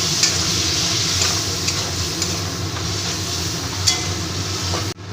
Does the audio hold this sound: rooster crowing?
no